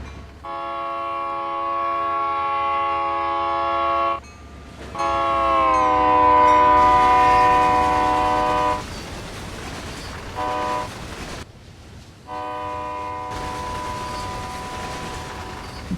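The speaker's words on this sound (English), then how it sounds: "Like I hear a train somewhere." A GP38-2 locomotive in Train Sim World 2020 sounds its horn in several long, loud sustained blasts separated by short gaps, with rumbling rail noise underneath and no talk.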